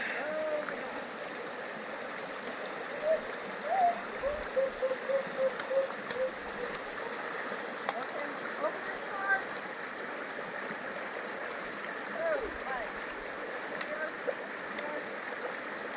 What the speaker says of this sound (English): now I'm going to go into an icy cold creek